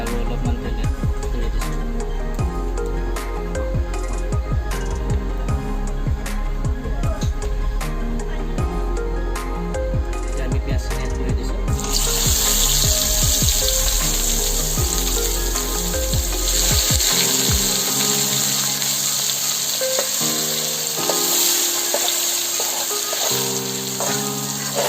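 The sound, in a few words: oil frying in a pan for Kashmiri dum aloo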